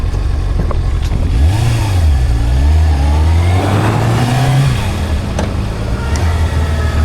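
A 20-year-old wet-clutch motorcycle revving while riding on a cold spring ride in Green Bay, Wisconsin: a steady, loud, close engine drone whose pitch climbs and sways through the revs over constant wind rush.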